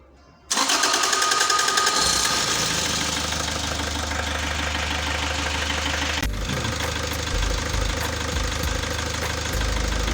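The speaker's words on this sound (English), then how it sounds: "and start the engine" A car engine cranks and catches, then settles into a steady, close idle with a rattling, mechanical hum that runs continuously to the end.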